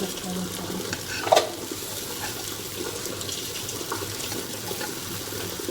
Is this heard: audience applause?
no